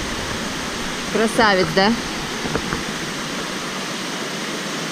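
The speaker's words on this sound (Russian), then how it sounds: "Так что сразу идем на водопад." Steady broadband rush of a Bali waterfall in the dry season with reduced flow, continuous and even throughout, with someone briefly speaking over it near the start.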